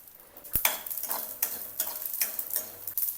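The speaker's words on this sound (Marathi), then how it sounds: "कारळ आणि तीळ पण भाजून घ्यायचं." Niger seeds, sesame and peanuts dry roasting in a kadhai, with repeated scraping and stirring strokes against the metal and soft rattling of seeds, close and moderately loud, no talking.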